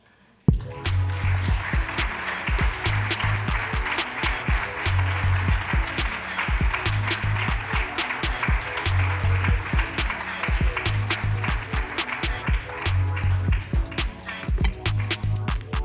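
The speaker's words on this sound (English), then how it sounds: "I wasn't expecting the round of applause to like drown out the music" Round of applause from a summit audience, sustained dense clapping heard over music with a regular pulsing beat, loud throughout after a sudden start.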